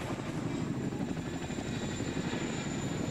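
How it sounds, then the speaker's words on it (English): A Chinook helicopter landing in the ARMA 2 video game makes a loud, continuous rotor and engine roar that stays steady and close throughout. "Chinook is landing, which is the rally mark"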